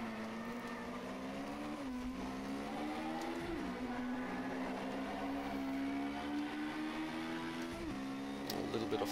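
A Group H Fiat 131 rally car engine held flat out in rFactor 2, a loud steady drone that dips briefly at gear shifts before climbing again, with a voice talking over it throughout.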